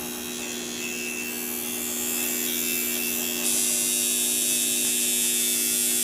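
A coil tattoo machine, freshly adjusted and tuned, runs steadily on its own with a continuous electric buzz and hum that grows slightly louder and brighter partway through.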